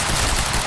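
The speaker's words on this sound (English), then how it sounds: "He's got a gun! Open fire!" Dense gunfire in the video game Quantum Break, a loud burst of rapid automatic shots packed into under a second with no pause.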